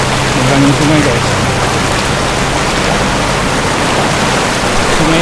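A rocky river rushes in a loud, unbroken wash of white noise during a trail run, close and constant, with a brief voice faintly beneath it at the start.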